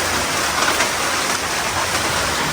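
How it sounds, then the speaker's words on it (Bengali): Heavy rain pours steadily in a dense, even hiss with no pauses, loud and close throughout. "অনেকক্ষণ থেকেই বৃষ্টি হচ্ছে"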